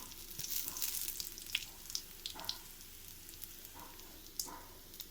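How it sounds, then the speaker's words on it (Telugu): Oil sizzles and crackles steadily with sharp little pops scattered throughout as cumin seeds temper in hot oil, close by, with no voices. "జీలకర్ర తాలింపు చేసేసుకుందాము. తాలింపు చేసి ఇందులోనే పుదీనా వేసేద్దాము."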